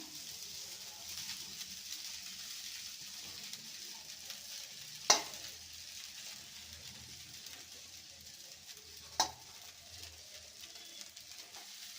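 Puffed rice being stirred in a hot pan while making murmura upma, a soft steady dry rustle with two brief sharp clicks of the spoon against the pan.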